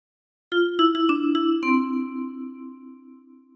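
A 10-key kalimba plays a phrase of "Bella Ciao": six quick plucked metallic tines in a short melodic run, the last note ringing out and slowly fading, close and alone.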